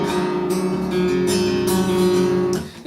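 A detuned acoustic guitar is strummed and picked in several loose, jangly bursts of ringing, slightly dissonant chords, close and fairly loud, with no talking.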